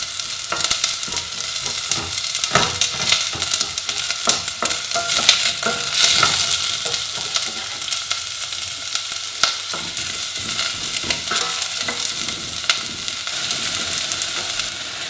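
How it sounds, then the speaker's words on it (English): Chopped onion softens in a pan for a spiced celeriac soup with coriander and chilli flakes, giving a steady, close sizzle with frequent stirring scrapes throughout, without any voices. "Just need to soften this onion off."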